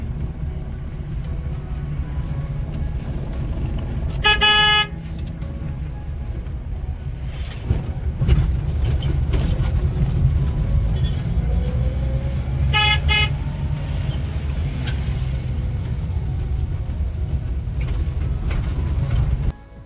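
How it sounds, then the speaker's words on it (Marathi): Road traffic held up behind a slow tractor on the way to a temple fair, with a steady engine and road rumble throughout and two short bursts of car horn honking, one near five seconds and another near thirteen. "पुढे ट्रॅक्टर आहे, सो त्याच्यामुळे थोडं ट्रॅफिक झाली"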